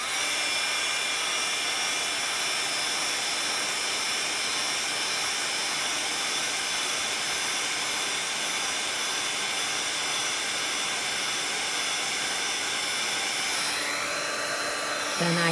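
A heat tool blows hot air over shrink plastic owl earrings with petal shapes, a steady loud roaring hiss that holds for the whole stretch with only a slight shift near the end.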